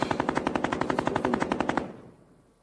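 Machine gun fire rattles in a fast, steady burst of about twenty evenly spaced shots, loud and close, then cuts off and fades into quiet.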